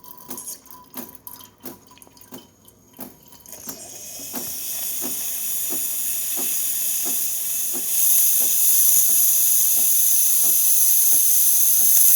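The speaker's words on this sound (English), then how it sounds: "Let's test the steam." On a DeLonghi Magnifica espresso machine, drips tick steadily before the steam wand bursts into a loud, continuous hiss that builds and grows stronger toward the end, with the drips still audible underneath.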